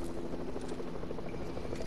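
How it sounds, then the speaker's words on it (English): Helicopters in the video game Fortnite make a steady, continuous rotor drone that runs throughout at moderate level with no speech over it. "We're getting pushed by helicopters."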